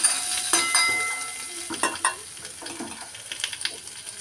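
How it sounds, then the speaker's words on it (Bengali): A whole tomato fried in spices with little oil in a pan for an egg curry: close sizzling and crackling with several sharp stirring scrapes and clinks of a utensil, no voices. "টমেটোটাকেও ভেজে নেব মশলার মধ্যে।"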